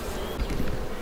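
Honeybees buzzing at a beehive, a dense, close, continuous hum that stays steady through a single brief moment with no other sounds.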